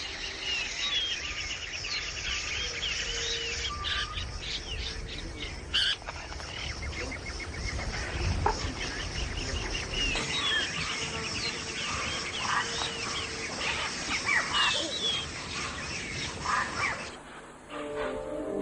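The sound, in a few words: parrots and exotic birds calling in Ecuadorian jungle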